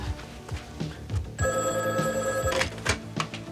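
A telephone rings indoors in a 1980s French-language hockey drama, a bright electronic ring sounding once for about a second, mixed with clattering and bumping sounds before and after, no talk.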